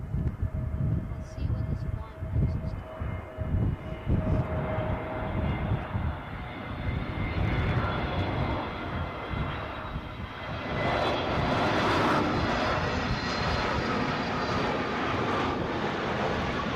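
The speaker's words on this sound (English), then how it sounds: "let's get that incoming easyJet from Geneva" An easyJet airliner inbound from Geneva lands at gusty Edinburgh airport, its engines a loud, steady roar with broadband wind rush that swells toward the end.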